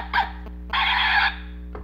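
Two short electronic-sounding barks from a toy dog, a brief yip then a longer bark, over a steady low hum.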